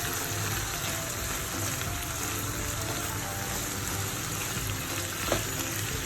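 Broccoli stir-fries in a hot pan, a dense, constant sizzle and crackle with faint scraping as it is mixed, close and steady throughout, no voices.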